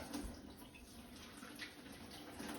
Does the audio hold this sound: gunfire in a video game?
no